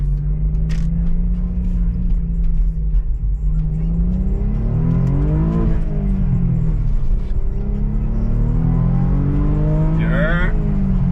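An Audi S4 engine revs hard while driving, its loud, continuous rumble climbing and falling in pitch through several gear-like swells, with a brief chirp near the end.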